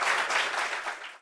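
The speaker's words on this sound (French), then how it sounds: "mais on peut applaudir pour lui" An audience breaks into brief, moderately soft applause at a gathering, a short burst of steady clapping that fades out.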